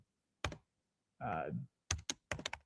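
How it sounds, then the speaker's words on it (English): Keys clatter on a computer keyboard in short separate bursts, one brief flurry followed by a few quick clusters of taps, close and clear, with a short spoken interjection partway through. "I'm gonna type in"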